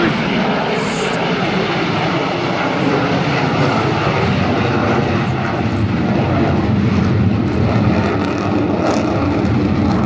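Avro Vulcan XH558 bomber flying at a 2015 air show at Cleethorpes, a loud continuous roar of jet engines filling the whole span, steady and broad with no break.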